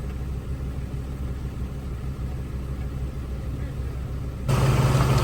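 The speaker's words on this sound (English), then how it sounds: "we tried the hand winch to help pull me to the right back onto the track as I drove forward" Off-road vehicle creeping forward on a steep New Zealand track while a hand winch pulls it sideways, a steady low engine drone that grows louder and rougher near the end.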